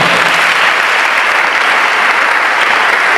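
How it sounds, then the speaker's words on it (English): Loud, dense audience applause fills a hall at the official media launch of a national quiz, with continuous steady clapping at full intensity from start to finish. "Let's give her a round of applause."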